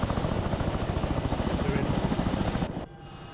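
A nearby helicopter thumps loudly and rhythmically, its rotor pulses steady throughout a military platoon patrol boarding, then the roar drops abruptly to a quieter hum at the end.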